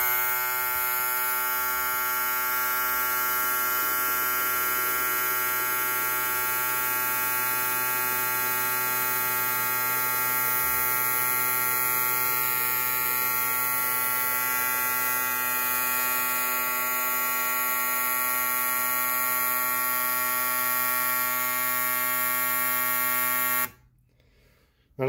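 Fuel injectors in a static flow test on a test bench, comparing ID1000 and Bosch 95 units: a loud, steady electric buzz and hum holds unbroken for about 24 seconds, then cuts off abruptly.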